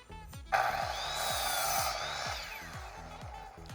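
A saw cutting the end off mill-cut 2x4 lumber for wall studs, a loud rasping cut lasting about two seconds over a low, steady, rhythmic engine-like pulsing.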